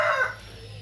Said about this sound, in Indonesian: Aduh itu ayam siapa lagi, sabar.